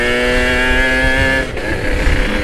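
Yamaha RX-King two-stroke motorcycle revving hard and close, a loud buzzing whine held high before dipping briefly and picking back up.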